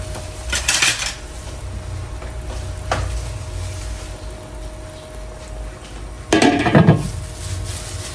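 Squash is stirred in a pot for Filipino pinakbet, with a couple of loud metal scrapes and clatters separated by a steady low background hum and faint sizzling.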